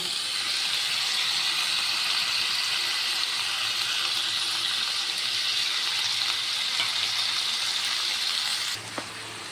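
Tomato paste fries in a hot pan with a loud, steady, close sizzle that holds evenly throughout, then abruptly drops off near the end with a small clink.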